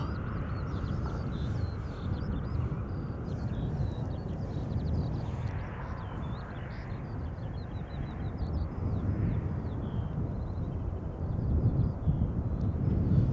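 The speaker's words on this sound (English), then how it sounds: "And this is KLM flight 758, arriving from Panama City." A KLM Boeing 787-10 Dreamliner airliner arrives at Schiphol from Panama City, a steady broadband roar that swells slightly toward the end, mixed with wind buffeting the microphone and faint bird calls.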